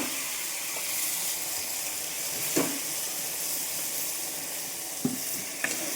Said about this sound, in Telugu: గ్రైండ్ చేసుకున్న టమాటో, ఆనియన్స్, మిర్చి పేస్ట్ వేసుకోవాలి